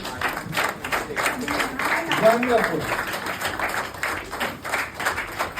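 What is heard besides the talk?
audience applause at a meeting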